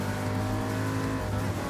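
Audi R8 engine in the Gran Turismo Sport racing game, a steady, loud, sustained drone with strong harmonic tones, held at high revs throughout with no speech.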